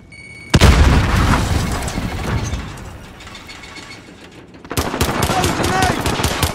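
In Call of Duty: Modern Warfare, a grenade blast bursts out loudly, followed by rattling gunfire and mechanical clatter. A second burst of rapid shots arrives later, with faint voices mixed in.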